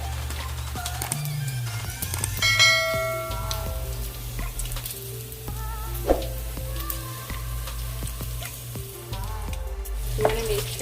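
Bacon sizzles and crackles steadily in a pan, with occasional utensil scrapes and clicks. A low background hum and faint tonal sounds sit underneath.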